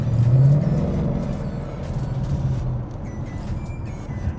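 A 2018 Ford Mustang GT with a Ford Performance Borla Sport cat-back exhaust and quad tips lets out a loud, deep rumble that swells early, then settles into a steady, throaty drone that slowly fades.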